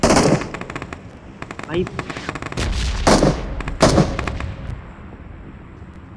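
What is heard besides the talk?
gunfire in a shooter video game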